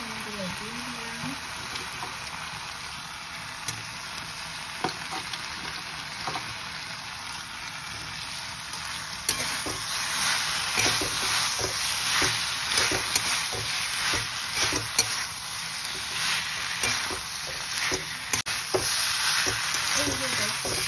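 Chicken pieces frying and being stirred in a pan for a home lunch, a steady sizzle that grows louder partway through, with scraping stirs, while someone talks over it.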